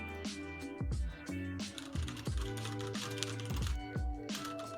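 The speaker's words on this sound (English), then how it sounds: "What are you typing?" Rapid clicking of computer keys in uneven bursts, heard under steady tonal music.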